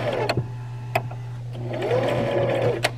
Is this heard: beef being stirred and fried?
no